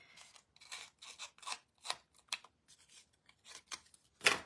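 Scissors snip repeatedly through patterned cardstock while a Christmas card is being made, giving a quick, irregular series of close, crisp cuts with short pauses between them and one sharper, louder snip near the end.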